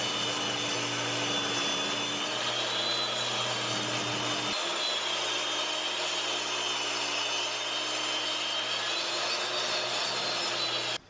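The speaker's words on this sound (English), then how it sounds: "Now that I have the oak board cut into 3 strips" Power saw ripping an oak board lengthwise into three strips in a home workshop, a loud continuous whining cut lasting the whole stretch, its motor pitch dipping and recovering midway, with no talking.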